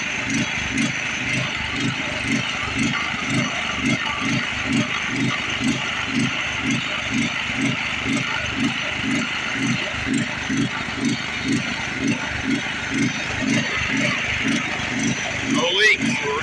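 A small lawn mower engine idles steadily with a fast, even pulsing chug and a slight surge, close and continuous, with a rattly edge and a brief bump near the end.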